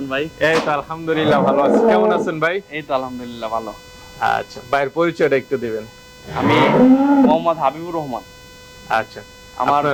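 Dairy cows on a farm lowing in long, loud moos, several calls close by in sequence with short pauses between them over a faint steady mains hum.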